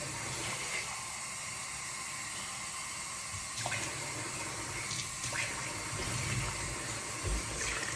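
Tap water runs steadily into a container while sourdough is being prepared, a faint continuous hiss and splash with occasional small knocks of the vessel.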